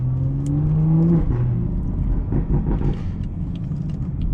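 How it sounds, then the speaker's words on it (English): A car engine revs and drops through a quick downshift, pitch falling then rising, with rumbling road noise close by. "those downshifts sound crazy"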